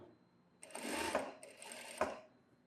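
A sewing machine stitching a seam on a synthetic-material blouse, with two short bursts of fast whirring, each ending in a sharp click, close and fairly quiet.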